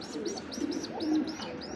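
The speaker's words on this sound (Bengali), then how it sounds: "এটা হচ্ছে বুলুবার শাটিন কবুতর" A blue bar satin pigeon gives a run of soft, close, repeated coos in a quick rhythm, heard alone without talk.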